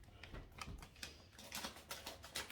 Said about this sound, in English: I'm just going to cut this bag open.